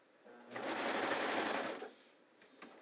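A serger with a knife chains off after a seam on pull-on pants, a single close, steady whirring run of about a second and a half before winding down, with no talking.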